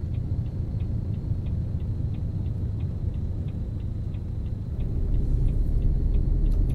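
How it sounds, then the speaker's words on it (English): Light, regular tapping ticks repeat at a steady rhythm, faint against a constant low engine rumble inside a truck cab, with no talk. "I'm not sure what that tapping noise was"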